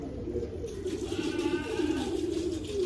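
A female pigeon coos softly in a low, steady murmur that runs throughout, close by, with faint background noise and no talking.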